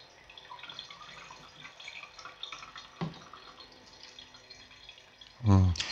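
Water is poured into the 2.4-litre tank of a USB diffuser humidifier, with soft trickling and dripping under faint background sounds and a louder gurgling splash near the end.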